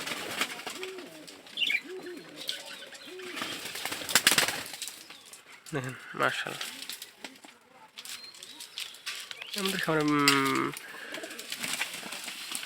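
Pigeons on a farm of about twenty-five pairs coo in repeated soft rolling calls, with wing flaps and bird chatter around them, while someone talks over the scene in between.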